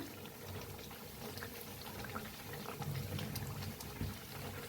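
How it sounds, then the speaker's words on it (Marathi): Puris deep-frying in hot oil, puffing up as they cook on both sides, with a dense, steady bubbling that stays at an even level throughout. "मस्त पुरी फुगायला लागले ते आपल्या दोन्ही साईडने छान असं तळून घेऊया पुऱ्यांना"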